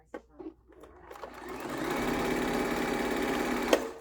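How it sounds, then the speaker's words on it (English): A sewing machine stitches a quilt-as-you-go table runner, starting with a few short clicks before settling into a steady, rapid mechanical whir. It runs close and fairly loud, with one sharp tick near the end. "Just go to the machine and start stitching"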